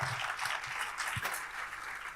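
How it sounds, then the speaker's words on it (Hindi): An audience at a freedom award ceremony gives steady, dense applause, many hands clapping at a moderate distance with no talk over it. "जोरदार तालियों से"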